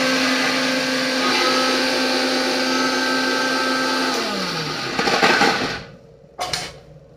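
A mixer grinder crushes garlic cloves and chillies into a coarse paste, a loud steady whirring motor that winds down near the end, followed by short clatters and a brief second burst.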